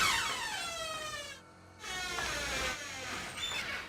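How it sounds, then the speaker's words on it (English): A squeaky hotel room door at the Paramount Hotel in Nottingham creaks open in long, drawn-out high-pitched squeals, close and fairly quiet, with a brief pause between two squeaking swings. "This is the door, make all the noise, squeaky noise, so Alex couldn't sleep."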